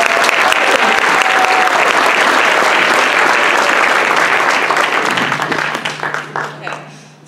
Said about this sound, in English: Please give a round of applause as this is an event of labor.